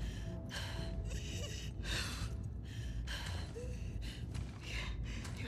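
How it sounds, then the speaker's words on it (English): A wounded character in The Last of Us Part II drags in heavy, labored breaths, a run of rasping gasps and sighs close up over a steady low hospital rumble. "Your breathing's worse."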